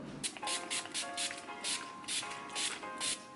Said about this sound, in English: I'm going to set my face with Urban Decay All Nighter Setting Spray